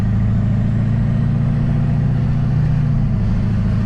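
A Duramax-swapped GMC Yukon with an open downpipe drives along, held below about 2,000 rpm by a fault code. A loud, steady, low diesel drone continues throughout, with no talking.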